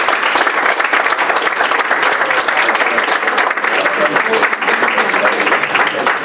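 A packed room at a regular board of education meeting breaks into loud, sustained applause, with dense clapping holding steady for the full six seconds without letting up.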